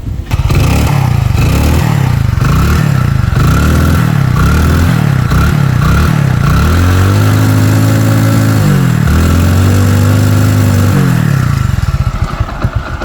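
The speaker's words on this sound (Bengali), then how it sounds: "বাইকটা স্টার্ট করে সাউন্ড কন্ডিশন দেখো" A 2020 Hero Splendor Plus motorcycle idles close by with a steady low putter, then its engine is revved twice in long, rising surges before settling back to idle.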